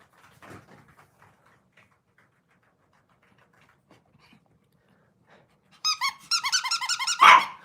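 A puppy squeaks, whines and yips excitedly while getting ready to play, a burst of high-pitched cries near the end after a mostly quiet stretch with faint rustling.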